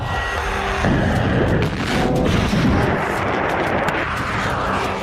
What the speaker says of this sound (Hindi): missile strike,